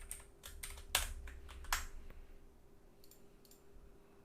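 Someone types on a computer keyboard while deleting code: a quick run of crisp key clicks with a couple of louder presses, then sparse taps fading into quiet room tone.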